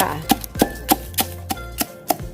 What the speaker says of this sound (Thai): ตำให้ละเอียดเลยค่ะ